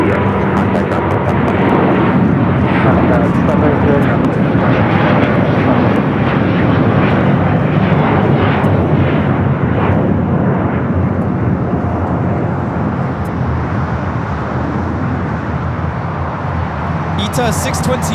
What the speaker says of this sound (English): taking off to Rome, Italy on the A330 Neo